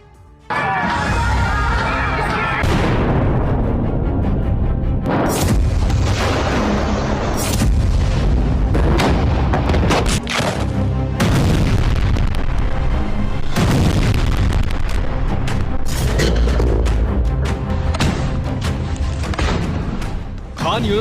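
Explosions and heavy artillery fire in war news footage, with loud booms and blasts rolling continuously over dense rumbling noise for the whole stretch, some voices mixed in.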